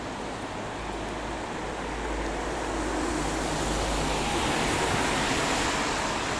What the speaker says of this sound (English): the sound of cars going through water